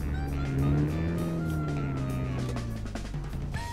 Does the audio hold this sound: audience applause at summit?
no